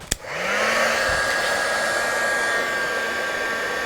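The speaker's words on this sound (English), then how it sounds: "we'll just hit it with a heat tool" A craft heat tool blows hot air to melt embossing powder, switching on with a click and then holding a steady, close, loud whooshing drone for several seconds with no talking.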